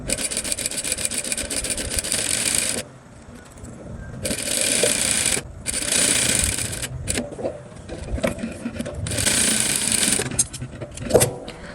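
A sewing machine runs in several long bursts while stitching a dance dress, its steady mechanical whir starting and stopping with short pauses between seams, fairly close and loud.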